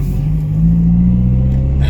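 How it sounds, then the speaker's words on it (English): A Honda Civic EP3 engine with a muffler delete rumbles steadily at idle with a deep, throaty exhaust note, rising slightly midway, close and loud with no talking. "That little muffler delete doesn't sound too bad."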